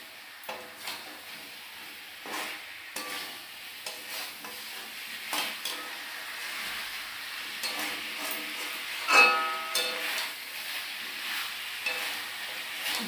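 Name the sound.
meat frying in oil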